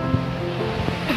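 Ocean waves wash at Karang Mas beach in Lampung, a steady broadband surf rush with a few soft swells, heard close with faint wind and no voices.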